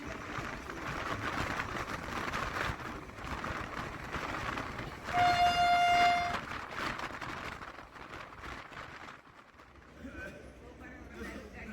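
A horn from the Puri Jagannath Express on the Shalimar–Puri run sounds one steady blast of about a second midway, over continuous train rumble and rattling, with a voice talking throughout.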